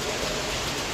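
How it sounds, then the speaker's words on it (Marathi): Heavy rain pours steadily at a railway station platform, a dense, loud, unbroken hiss with no other sounds breaking through. "पाऊस खूप पडतो आहे"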